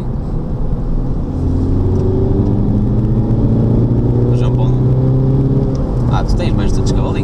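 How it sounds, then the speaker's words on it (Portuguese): Modified Audi TT 8S TDI with over 200 hp, pulling in third gear in wet weather, engine drone rising steadily and loud throughout inside the car, with faint speech late on. "vou só acelerar um bocadito"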